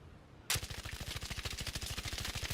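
Rapid automatic gunfire in the Arc Raiders video game with a muzzle brake fitted, a long steady burst of evenly spaced close shots starting abruptly after a brief quiet moment.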